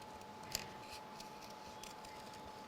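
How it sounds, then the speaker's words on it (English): Scissors snip paper trim on a handmade Christmas craft card, a single crisp cut near the start followed by a couple of faint snips against a quiet room hum. "I'm going to go back with my scissors and just nip along this"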